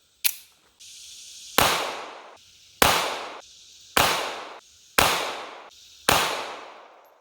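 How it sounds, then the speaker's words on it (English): A Smith & Wesson Bodyguard 2.0 pistol fires a five-round group of 100-grain rounds at the range, sharp loud reports spaced about a second apart, each ringing off briefly, with no talking between shots. "we are going to fire a 5-round group with each"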